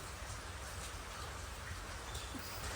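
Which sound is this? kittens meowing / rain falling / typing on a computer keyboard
rain falling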